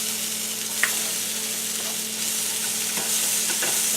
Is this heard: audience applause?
no